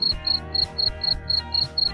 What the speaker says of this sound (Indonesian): Jangkrik juga kerap disebut cengkrik.